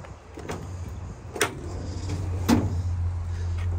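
A few sharp clunks and latches sound as canopy doors and compartments on a 2020 Mazda BT-50 XT 4x4 freestyle cab chassis ute are opened, over a steady low hum of an idling engine.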